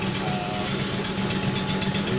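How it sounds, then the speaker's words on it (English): A homemade small locomotive engine runs steadily nearby, a continuous low mechanical hum with faint rhythmic pulsing and no talk over it. "Engine is running and it's going around."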